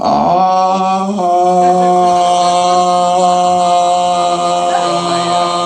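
A voice imitates an old lady's shrill, sustained scream, loud and close, holding one wavering high pitch for several seconds.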